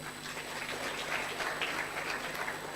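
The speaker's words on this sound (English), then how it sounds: "Can I have a round of applause for these two amazing speakers?" Audience at an entrepreneurship dialogue event applauding two speakers, a steady wash of clapping heard from a distance and moderately faint.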